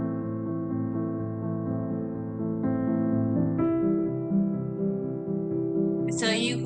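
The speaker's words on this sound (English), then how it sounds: "So there's a focus music, sounds like this." Focus music from the Class Dojo classroom toolkit: a calm, sustained tonal piece with layered held notes that shift chords a couple of times, playing steadily on its own before a brief brighter flutter near the end.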